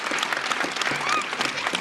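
Applause from an audience at a presidential executive order signing on barring transgender athletes from women's sports, steady dense clapping filling the room throughout, fairly close.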